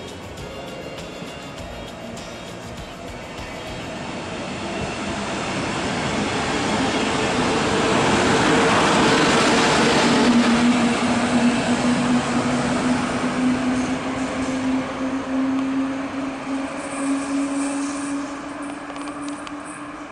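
A Karlsruher Kopf cab-car regional express train runs through the Neckar valley, its rumble swelling as it nears and passes, with a rising tonal whine in the second half.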